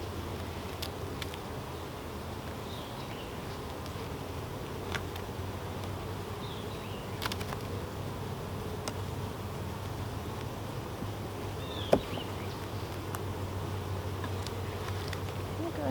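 Honey bees from an overwintered split colony drone in a constant low hum around an opened hive, with faint rustling and a brief knock, steady and close throughout without talk.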